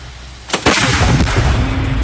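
A single loud, booming cannon blast cracks out, followed by a rumbling, sustained roar that lingers to the end.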